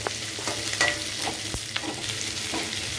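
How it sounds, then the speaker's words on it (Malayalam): Capsicum is stir-fried on high flame in a pan for chilli chicken. A close, soft sizzle runs steadily throughout, broken by a few scraping stirs. "പിന്നെ ക്യാപ്സിക്കം ഇട്ട് കൊടുക്കുകയാണ്. ഹൈ ഫ്ലെയിമിൽ തന്നെ ചെയ്യണം."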